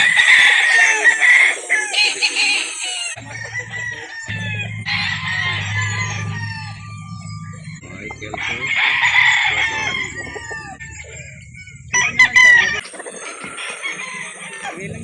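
Several gamefowl roosters on a farm in Calauan, Laguna crow in overlapping bouts near and far, mixed with clucking and scattered bird calls, loud and continuous with no talking.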